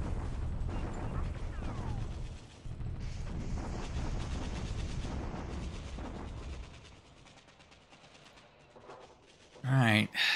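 Naval bombardment of Palembang in the War in the Pacific strategy game, with a dense, rumbling barrage of gunfire and explosions that holds for several seconds before fading, and a brief voice near the end.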